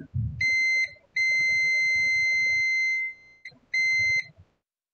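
A high electronic tone from a tester beeps in three sustained pulses, the middle one long, with faint handling noises underneath, during repair of a Falcon 5G MU5001 router's torn-off antenna connector.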